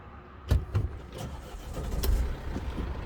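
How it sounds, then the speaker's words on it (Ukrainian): A Mercedes 316 passenger-cargo van engine starting: a couple of short cranking thumps, then the diesel catches and settles into a steady low rumble close by, with no talking. "Мягко завівся двигун."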